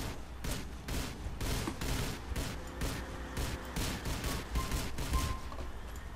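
Rapid bursts of gunfire from a multiplayer match of Grand Theft Auto IV, repeated sharp shots and clustered volleys in an irregular rhythm, loud and close throughout with no speech over them.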